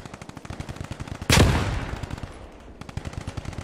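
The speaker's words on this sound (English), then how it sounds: "Small arms fire." Small arms fire in a military video game event: rapid automatic gunfire bursts repeat steadily, broken by one louder blast that decays over about a second before the shooting resumes.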